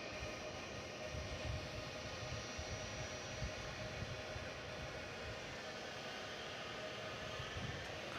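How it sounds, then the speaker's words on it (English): Boeing 757 jet airliner at DFW Airport at night, a steady broad engine roar with a constant whine, heard from a distance and holding even in level throughout. "So another head-on look at a 757 for you all."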